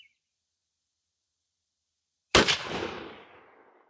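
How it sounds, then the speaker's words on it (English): A single sharp blast from a Remington 11-87 12 gauge shotgun with a 28-inch barrel firing a Herter's Strutter 3-inch 1-7/8 oz #5 turkey load, outdoors, followed by a rolling echo that fades over about a second and a half. "let's take our shot and see what we get."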